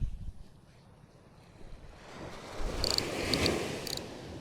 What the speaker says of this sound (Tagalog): Lumakas yung hangin na naman.